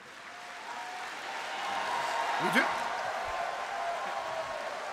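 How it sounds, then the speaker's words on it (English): Labour Party Annual Conference 2018 audience applauding and cheering steadily throughout, a dense wash of clapping with a brief spoken remark near the middle. "I can't help it if they cheer"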